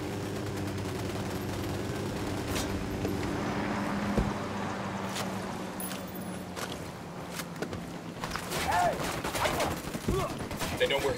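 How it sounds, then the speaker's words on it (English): Gunfire in the video game Ghost Recon Wildlands, scattered shots and bursts over a steady low engine-like rumble, growing busier toward the end, with faint voices under the action. "Opening fire on these fuckers."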